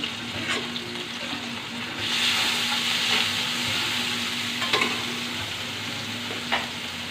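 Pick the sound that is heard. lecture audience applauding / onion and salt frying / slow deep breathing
onion and salt frying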